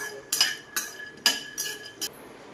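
A cup of peanuts roasting in a hot kadhai gives a few sharp metallic clinks and rattles, about five separate hits spaced irregularly, close but fairly soft.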